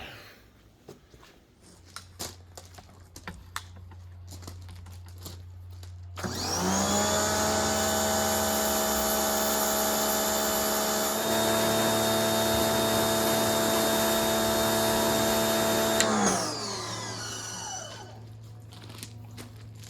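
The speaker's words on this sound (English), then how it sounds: "Now I can pressure wash the front half of the frame before I put it back together." A pressure washer cleaning the front half of a 1974 Ford F100 truck frame starts abruptly and runs as a loud, steady high-pitched whine for about ten seconds, then cuts off and winds down.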